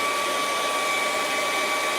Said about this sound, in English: I'm just drying where I want to put the easy mountain